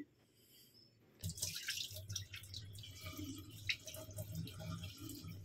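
Rice being washed in water while preparing jeera rice in a home kitchen: irregular drips, splashes and a trickle as the grains are rinsed. The sloshing starts after a brief quiet moment and continues close and moderately loud.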